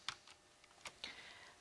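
A computer keyboard used to control a Masso CNC machine, with a handful of light, quick key clicks spaced unevenly across a short quiet stretch, as in a Control, Alt, Home shortcut.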